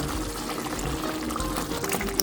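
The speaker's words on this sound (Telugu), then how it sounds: "వాటర్ కూడా పోసేస్తున్నాను బాయిల్ అయ్యే వరకు వెయిట్ చేయాలి" Water being poured into a pan of simmering curry during cooking, a soft continuous splashing pour with light bubbling, fairly close.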